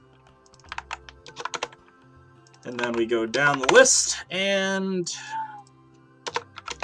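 Quick bursts of clicking keys as random numbers are typed on a computer keyboard, close and crisp, in short runs before and after a stretch of someone speaking.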